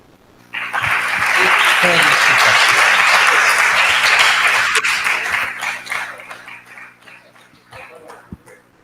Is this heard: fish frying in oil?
no